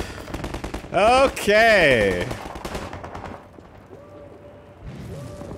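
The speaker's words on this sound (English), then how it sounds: "What was he shooting at?" Gunfire during Half-Life 2 gameplay, a loud rattling burst of shots near the start with game effects ringing out after, while someone talks over the action.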